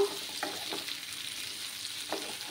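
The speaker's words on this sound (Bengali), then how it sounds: "আমার পেঁপেগুলো আরও একটু ভাজতে হবে" Papaya and potato pieces fry in a pan, making a soft, steady sizzle close by with a couple of light stirring sounds.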